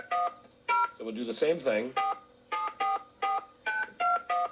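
Touch-tone keypad beeps dial a phone number in an even run of short, loud tones, with someone talking briefly between the first few tones.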